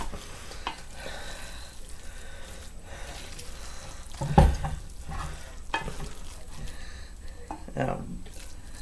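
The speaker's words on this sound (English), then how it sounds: "Alright, I'm going to stir this up again." Eggplant casserole mixture is stirred in a hot pan, giving a soft, wet, squishy sizzle with scrapes and one sharper knock partway through, heard close while someone talks over it.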